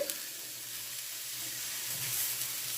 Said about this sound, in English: The piece of onion that I had left over from my meat, I'm going to go ahead and put onto the griddle.